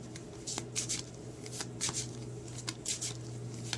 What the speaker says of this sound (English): I'm just going to give it another quick shuffle just like this.